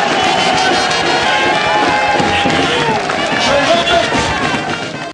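A crowd at an election campaign speech cheers and shouts loudly without pause, a dense roar of many voices filling the whole moment.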